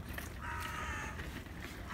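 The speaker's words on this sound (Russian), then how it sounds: "даже ворона поддакивает" A single crow caws faintly at a distance in the open air of an island, a brief call over quiet ambient background.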